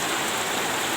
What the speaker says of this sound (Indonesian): hujannya belum reda